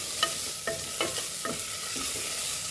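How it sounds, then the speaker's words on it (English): Ingredients for mutton paya soup sauté over a slow flame in a pan, a soft steady sizzle broken by about five spoon scrapes and stirs at an even pace. The sound is close and quiet, and nobody speaks. "Slow flame and just saute this all nicely."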